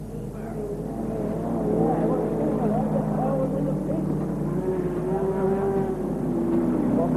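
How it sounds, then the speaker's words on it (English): A racing car circling a speedway during a cannonball race drones steadily at a distance, its engine running rough and faltering as it slows, with a commentator talking over the continuous roar. "the motor's starting to sound sick, and he's slowed down"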